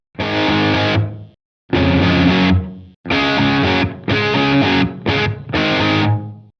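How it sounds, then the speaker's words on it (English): Heavily distorted electric guitar crunch tone plays chunky chords in short bursts separated by brief pauses, loud and saturated. "I'm going to up the distortion in this stage a little bit."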